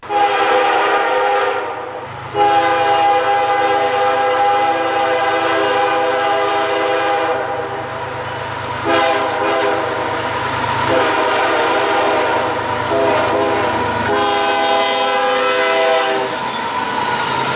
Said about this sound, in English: I got a really nice horn show